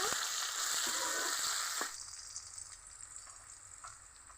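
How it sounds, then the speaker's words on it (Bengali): Chopped onions frying in mustard oil in a wok, a steady close sizzle that drops in level about halfway through and continues more quietly with faint crackles. "পেঁয়াজ কুচি দিয়ে দিব পেঁয়াজ হালকা ভেজে নিব"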